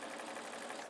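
A sewing machine stitches a wrapped rope coil for an Easter basket, a brief, quiet, rapid mechanical whirring run of stitches heard close up.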